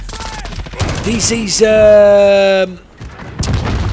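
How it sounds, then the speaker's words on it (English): Light machine gun fire from a Hoga LMG in a hardpoint-mode shooter game: a sustained burst of rapid, evenly spaced shots lasting about a second, loud and close, with a voice talking before and after it. "I'm playing with a Hoga light machine gun"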